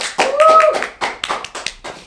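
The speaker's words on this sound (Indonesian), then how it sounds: "Tepuk tangannya." A few people clap at a podcast recording, giving irregular, close claps in short bursts with quiet gaps between them and a brief tonal sound near the start.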